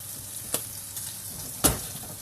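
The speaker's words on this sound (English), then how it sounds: "you can see this halloumi is frying really nicely" Halloumi fries in oil in a pan with a low, steady sizzle, and two or three soft taps or pops rise above it.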